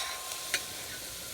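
Onions and yellow squash fry in oil on a hibachi grill with a soft continuous sizzle, broken by two quick stirring scrapes, heard up close with no talk.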